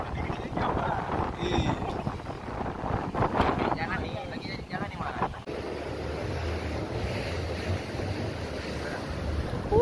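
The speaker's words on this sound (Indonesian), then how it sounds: "cuaca memang sedang tidak bersahabat, ombak tinggi dan angin kencang menghadang" Rough, high sea surf and heavy wind buffeting the microphone off the Aceh coast, loud and continuous, with a low engine drone joining in the second half.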